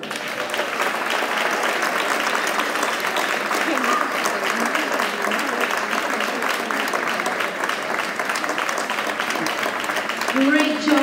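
An audience at a school prize giving claps steadily for several seconds, a dense, even wash of applause that swells slightly at the end.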